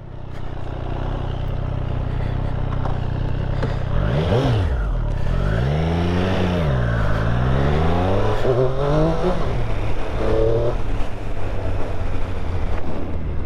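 A Triumph Street Triple 765 RS motorcycle engine pulls through rising and falling revs while being ridden, loud and close, with a steady road roar and no talking.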